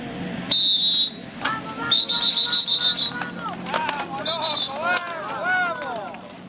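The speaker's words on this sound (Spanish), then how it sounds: "Larga el silbato." A sharp starting whistle is blown several times in short blasts at the start of a local-category race, with voices talking in the background of a busy outdoor scene.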